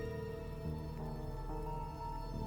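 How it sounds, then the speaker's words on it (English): Steady rain falls in the video game Shadows of Doubt, a constant soft patter at a quiet level with a faint tonal backdrop and no talking. "the fact that it's constantly raining definitely seems to have not been helping"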